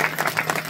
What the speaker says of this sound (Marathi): आमच्या बाबा करता एकदा टाळी वाजवा